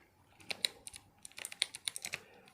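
Keys on an RP2040-based 60% keyboard are pressed one at a time, sharp clicks coming in irregular bursts, close and clear against a quiet room.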